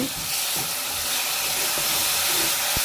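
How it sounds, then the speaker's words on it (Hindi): Water poured into a hot pan of mixed greens with green onion sets off a loud, continuous steamy hiss and sizzle, dotted with a few soft clicks of a utensil. "अब इसमें मैं थोड़ा सा पानी डालूँगी।"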